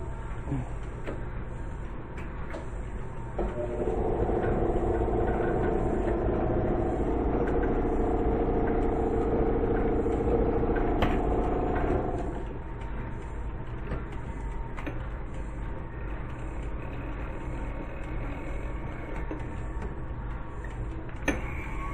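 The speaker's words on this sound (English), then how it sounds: "Now this is a fly ball governor." A steam engine fly ball governor of the kind used on a steam tractor, shown running at a museum, gives a steady mechanical whirring hum that swells for several seconds and then drops back into a continuous low machine drone.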